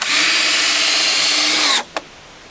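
A power drill drives a screw into wood on a treehouse build, a loud, close, steady high whir for nearly two seconds that stops abruptly, followed by a short final burst.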